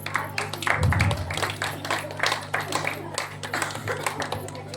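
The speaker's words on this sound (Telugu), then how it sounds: "ఒకసారి అందరు పిల్లల కోసం గట్టిగా చప్పట్లు కొట్టి" An audience claps for children after a Christmas skit, scattered hand claps rising briefly then continuing in uneven bursts beneath a speaking voice over a low hum.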